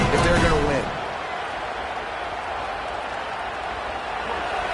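Home crowd noise at a Michigan vs Indiana college football game on third down, a steady broad roar of many voices filling the stadium, with a brief louder burst at the very start before settling into a sustained din.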